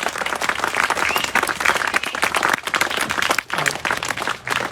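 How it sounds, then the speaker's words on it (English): Sustained applause from an audience, many hands clapping continuously with no breaks. "And so I really just wanted to give a round of applause to Giuseppe and all of the advocates that ar"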